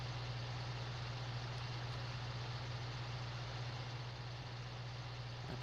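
A tractor engine idles in the farming game Farming Simulator 19, a steady low hum with a constant drone, fairly faint and unchanging throughout with no talk over it.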